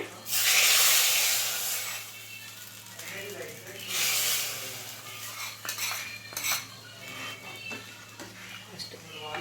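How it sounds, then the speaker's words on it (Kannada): A ladle scrapes and clinks against a metal pot while avarekai sambar is stirred after tempering, with irregular knocks and scraping bursts and a faint lingering hiss underneath. "ಚೆನ್ನಾಗಿ ಮಿಕ್ಸ್ ಮಾಡ್ಕೊಂಬಿಡಿ."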